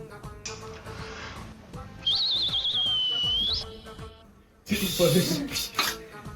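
A high, wavering hiss-whistle from a pressure cooker cooking basmati rice for biryani rises and holds for a couple of seconds amid kitchen clatter, then a voice speaks nearby.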